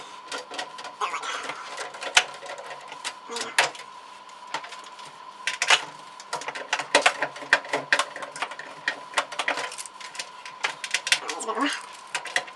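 Brass PC case standoffs being tightened with a small socket give off a run of sharp, close metallic clicks and taps at an irregular rhythm, with short scraping bursts in between.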